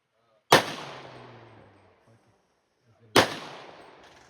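Two loud pistol gunshots at an outdoor gun range, each a sharp crack followed by a long decaying echo, spaced a few seconds apart against near silence.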